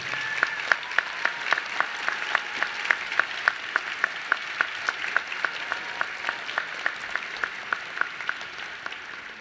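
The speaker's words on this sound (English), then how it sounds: "could you please give me a round of applause for all your good teachers here" A large audience applauds at the 2024 Quinnipiac University School of Law commencement; steady, dense clapping fills the hall with a few sharper individual claps standing out, holding for the full span without speech.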